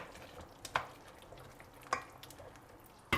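A spoon stirs mafé stew with freshly added okra in a pot of water, giving soft scraping and knocks at irregular intervals over a low background bubbling, with no voices.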